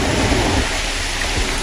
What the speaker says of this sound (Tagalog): wala pong tigil ang buhos ng ulan